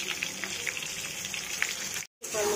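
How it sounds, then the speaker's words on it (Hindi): Pointed gourd (parwal) frying in oil in a pan, giving a steady sizzle with light crackling pops that breaks off briefly near the end and then resumes. "परमल को अच्छी तरह से भून लेंगे"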